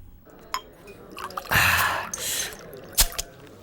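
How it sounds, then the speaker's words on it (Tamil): A drink being poured into a glass, a short gush of liquid followed by a few clinks and drips, close and moderately loud with no talking. "எனக்கு ஒரு ரவுண்டு ஊத்துறா."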